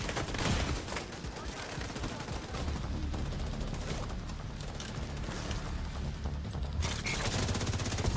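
Enemy gunfire in a Ubisoft shooter game comes as dense, continuous crackling bursts and rapid shots amid other game noise, with no clear pauses over several seconds.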